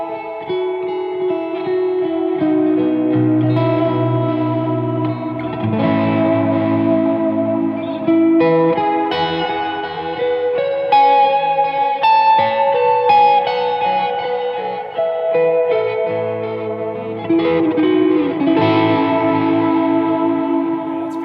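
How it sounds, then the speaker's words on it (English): A Doubleday Starling electric guitar on the middle pickup plays sustained, ambient chords and melodic lines drenched in heavy reverb and delay, loud and continuous with no talking. "I think it sounds cool if you hit it with a ton of verb, ton of delay"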